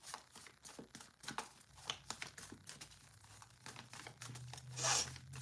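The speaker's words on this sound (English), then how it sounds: "Let me get a good shuffle." Tarot cards being shuffled by hand, a close run of papery riffles, slaps and rustles in uneven bursts, with a louder crinkly swish near the end and no speech.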